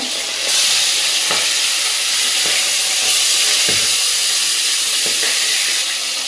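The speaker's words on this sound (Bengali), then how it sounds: "বাচ্চাগুলা ভাজলাম, এখন মাছগুলোকে ভাজবো।" Fresh fish sizzle loudly in a pan of hot oil. The hiss swells after the first half second and stays intense, with occasional sharp spatula clicks and pops.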